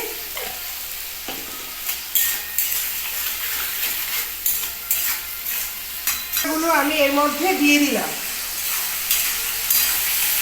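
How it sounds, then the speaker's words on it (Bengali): Fish roe patty frying in a pan with turmeric and salt, a steady sizzle running throughout with intermittent stirring and scraping, close and fairly loud, while someone speaks briefly over it. "এটা আমার মোটামুটি ভাজা হয়ে গেছে এই ডিম পাতলিটা"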